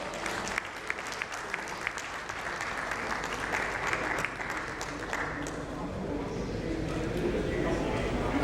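A conference audience at an insurance industry panel applauds as a panelist is welcomed, steady crowd clapping that gradually thins and fades toward the end, with some murmured talk beneath.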